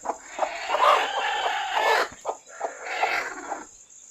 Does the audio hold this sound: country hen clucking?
yes